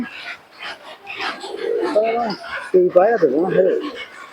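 Low, throaty pigeon coos rise and fall in short rolling phrases, close by, with soft voices in the background.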